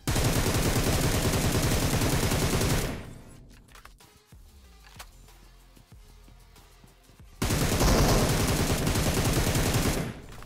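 Loud, dense automatic gunfire in the mobile battle royale game BGMI (PUBG Mobile), bursts rattling continuously for about three seconds, falling to a quieter stretch with scattered shots, then another loud sustained volley near the end.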